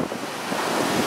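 Waves from the Andaman Sea wash in at the southern tip of Phuket, Thailand, a broad steady surf hiss mixed with gusty wind buffeting the microphone, close and fairly loud.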